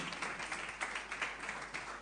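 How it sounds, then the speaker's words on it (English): Audience at a motivational speaking event keeps up steady, dense applause, a continuous wash of many hands clapping at moderate distance, faint and even throughout. "You can keep clapping until they come, please"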